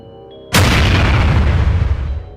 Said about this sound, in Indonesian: Tanah tempat Tori berdiri meledak, menciptakan kawah kecil.